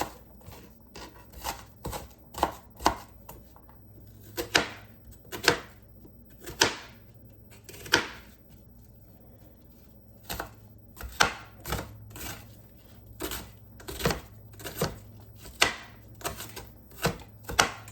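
Knife chopping onions on a cutting board for homemade chili: sharp, close, fairly quiet knocks in irregular bursts, with a short pause partway through.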